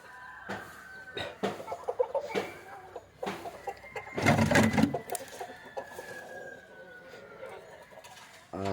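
Domestic chickens cluck and squawk in irregular bursts close by, with a louder flurry of calls midway, then quieter scattered clucks.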